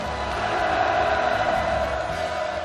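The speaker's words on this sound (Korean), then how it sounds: "전체 참가자들이 터치는 우렁찬 환호성이 또다시 울려 퍼졌습니다" All participants at the opening ceremony of the Central Cadre School raise a loud, sustained roar of cheering, a dense crowd sound holding steady throughout.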